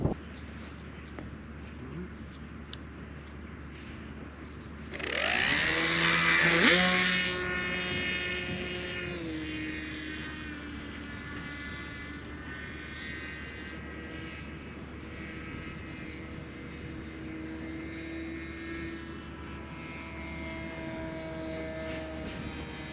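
An iNav RC flying wing auto-launches in high wind: after quiet wind noise, its propeller motor suddenly spins up to a loud whine that climbs then settles into a steady buzzing drone as it flies away.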